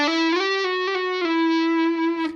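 A sustained, singing electric guitar tone played with an eBow, smooth, bowed-sounding notes gliding between pitches, played clean and dry with no reverb.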